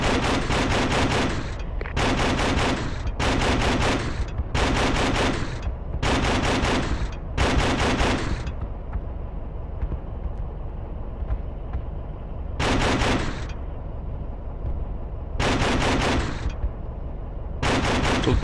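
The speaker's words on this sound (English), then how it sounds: "Okay, I'm going to shoot down the mosque." Repeated bursts of heavy automatic gunfire from an AAV amphibious vehicle firing on a mosque in Project Reality on the Muttrah map, loud and close, with several sustained volleys separated by short rumbling pauses.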